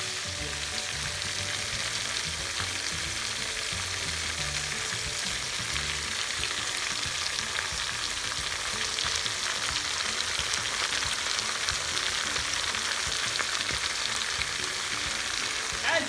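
Prawn koliwada deep-frying in hot oil, a dense, loud, continuous crackling sizzle that holds steady throughout with no voices.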